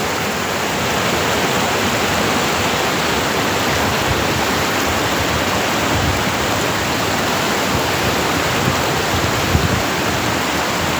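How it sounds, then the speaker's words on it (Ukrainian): Rapids on the Black Tysa mountain river in Ukraine, a steady, loud rushing roar of fast water over stones, continuous and unbroken throughout, with no voices. "Такий шикарний перекат."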